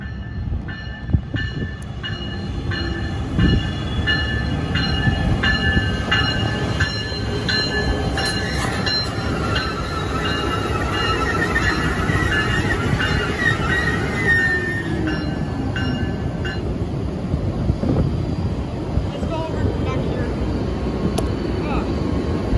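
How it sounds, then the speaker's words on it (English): An Amtrak passenger train led by a Siemens Charger locomotive rumbles past nearby at Fairfield/Vacaville, wheels clattering and squealing over the rails in a long continuous roar. "here's Amtrak train 545"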